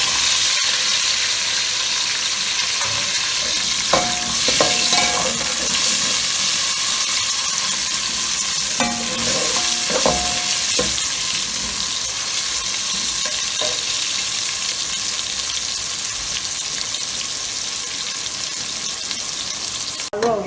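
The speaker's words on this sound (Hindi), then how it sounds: "मैं लगी हूँ प्याज पाना। प्याज पाने लगी हूँ।" Onions frying in hot oil for nalli pulao, a loud broad steady sizzle close by, with occasional clinks of a spoon stirring the pan and no speech.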